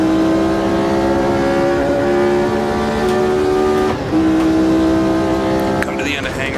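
A Brabham BT26 Formula One car from the 1969 Silverstone race in the video game Automobilista 2 holds a loud, steady high-revving engine note throughout. The pitch dips briefly on a shift, then the note settles and carries on.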